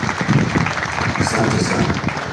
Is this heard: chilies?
no